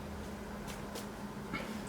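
A house cat meows a few short times, faint and close, over a low steady background hum.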